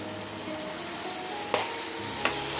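Ground pork frying in a pan, a steady close sizzle with a couple of sharp scraping stirs of a utensil against the pan, no voices.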